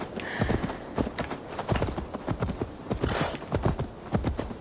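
Rapid clip-clop of horse hooves trotting steadily in Assassin's Creed Valhalla, loud and close, with the rhythmic beats continuing throughout.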